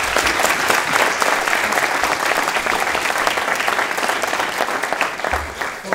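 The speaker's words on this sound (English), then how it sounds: "Big round of applause for Greg Hamilton." A morning event crowd gives a sustained, even round of applause for Travis County Sheriff Greg Hamilton, the clapping dense and unbroken throughout.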